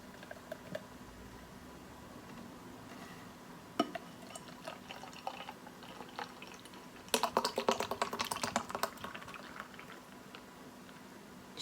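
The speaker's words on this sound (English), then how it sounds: "get this poured into the glass" Guinness 0.0 pours into a glass, a quiet liquid gurgle and fizz that grows into a denser burst of bubbling and splashing near the end.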